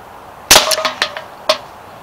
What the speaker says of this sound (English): Okay, so let's shoot the can. The hard rubber blue balls.